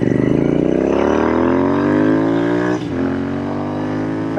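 A Royal Enfield Classic Interceptor 650 motorcycle engine revs loudly and close, climbing in pitch over about two seconds, dipping with a brief blip, then holding a strong, rising drone.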